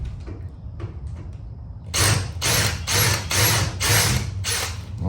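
A power drill with a larger bit bores into a thick aluminum frame while a door is installed: a quiet start, then five or six loud, whining bursts in quick succession with short pauses between.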